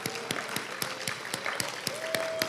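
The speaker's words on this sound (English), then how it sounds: "Let's give one big final round of applause for all of tonight's awards recipients." Sparse, faint clapping from an award ceremony audience at a university, a few distinct claps spaced at a steady beat under a low hum.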